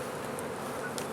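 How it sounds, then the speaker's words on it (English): Honey bees buzz around a nuc hive in a constant, soft, close drone that lasts the whole moment, with no talk over it. "shake the bees off into the hive"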